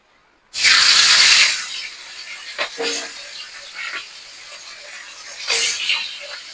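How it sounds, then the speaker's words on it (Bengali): A fish head, rubbed with turmeric and salt, drops into hot oil with a sudden loud hiss that settles into continuous sizzling, with a few sputtering pops and flare-ups close by. "এখন আমি তেলে ছেড়ে দেবো, মাছের মাথাটাকে তেলে ছেড়ে দেবো।"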